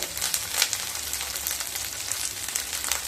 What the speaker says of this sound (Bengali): মিডিয়াম টু লো স্টিমে পেঁয়াজ আর ক্যাপসিকামকে হালকা ভেজে নিয়ে তারপর তুলে নিতে হবে